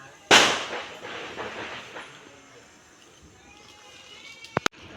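A loud Diwali firecracker bang opens and rumbles away, followed near the end by two sharp, quick cracks.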